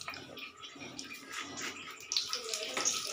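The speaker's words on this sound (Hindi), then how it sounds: "हमारा तेल गर्म हो चुका है, इसमें हींग डाल रहे हैं" Asafoetida dropped into hot oil for a dal tadka, giving a soft, steady sizzle and crackle with brighter spitting bursts toward the end, fairly quiet and close.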